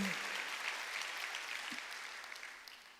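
A church congregation at a Korean Wednesday worship service claps in a faint, distant wash of applause that stays steady and then tapers, with a brief voice heard early on.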